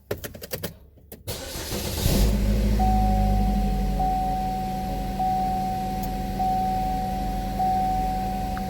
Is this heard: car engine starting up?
yes